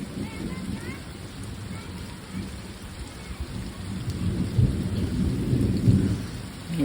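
Steady rain falls outdoors while kids play, with low thunder rumbling and swelling toward the end; faint voices sit beneath the downpour.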